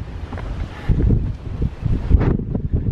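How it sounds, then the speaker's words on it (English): Strong wind buffets the microphone in heavy, gusty rumbles, rising and falling without pause. "Jesus, it's windy."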